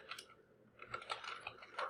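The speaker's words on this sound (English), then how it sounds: "let me type in Facebook Live." Fingers typing on a computer keyboard, a quiet close flurry of irregular clicky keystrokes over a faint hum.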